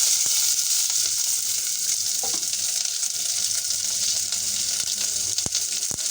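Onion, green chili and garlic fry in a little hot oil with a steady, dense sizzle and occasional sharp pops and spatters, close and continuous throughout.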